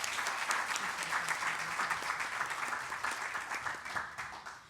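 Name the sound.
audience applause for the volunteers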